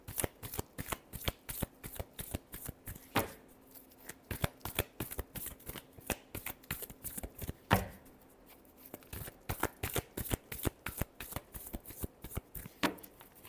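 Tarot cards are shuffled by hand up close in a fast, rhythmic series of crisp flicks and taps that continues steadily, with a couple of brief pauses.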